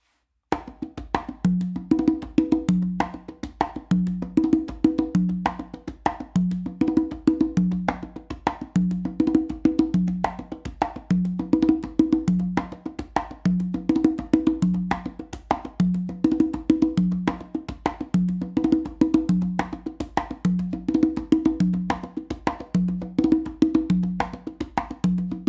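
A continuous a caballo variation on congas, a steady galloping pattern of open tones, slaps and muted strokes running without a break for about twenty-five seconds, close and evenly loud.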